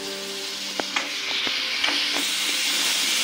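Chopped tomatoes with coriander in a spiced tempering sauté in a pan for varanfal, giving a steady steamy sizzle and hiss with a few soft utensil knocks near the start, no voices.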